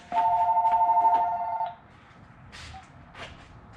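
A telephone rings once near and loud, a steady electronic trill lasting about a second and a half, then stops, leaving a quiet room with faint background noise.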